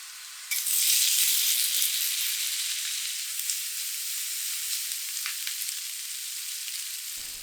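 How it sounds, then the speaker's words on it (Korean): Bacon fries over high heat in a pan with butter and garlic, giving a loud, bright, continuous sizzle that starts abruptly and then settles into a steady crackling hiss. "센 불에서 베이컨을 볶아요."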